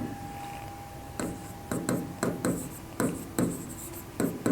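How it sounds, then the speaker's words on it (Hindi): Handwriting with a pen or marker on a board during a Hindi lecture, heard as a series of short scratchy strokes in irregular bursts, close and fairly quiet, with no talking. "चलिए मैं यहां पर लिख देता हूं"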